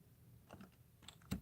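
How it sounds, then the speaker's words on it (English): Typing on a computer keyboard: a few scattered, fairly quiet key clicks followed by a sharper, louder keystroke near the end, in a quiet room. "So I'm going to finish typing what I'm typing."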